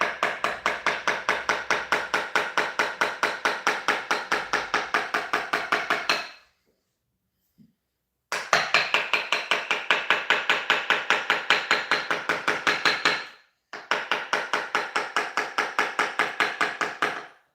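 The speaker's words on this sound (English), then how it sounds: "So is this hammer method, is it to get a good flow?" Rapid, evenly spaced percussive tapping from a hammer-style massage treatment on a sore muscle, played in three long bursts separated by short pauses, close and fairly loud with no talking.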